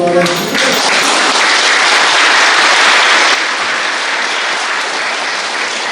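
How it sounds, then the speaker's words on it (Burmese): Loud, dense applause from a wedding audience, steady clapping that fills the space for several seconds before easing slightly toward the end. "ကျွန်တော်ကပြန်ပြီးလက်ခုပ်တီးရအောင်"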